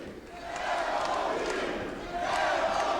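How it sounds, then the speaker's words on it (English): A wrestling arena crowd chants "L.O.D." for the Legion of Doom, a loud, rhythmic mass of voices rising and falling in two swells across the short stretch. "Listen to the chant by the crowd."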